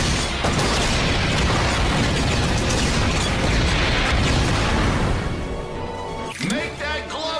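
Rocket launcher blasts and explosions in the Ratchet and Clank game on PS4, a loud sustained roar of booms and debris that fades into a whooshing, sweeping tail near the end.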